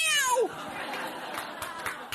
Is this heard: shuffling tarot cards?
no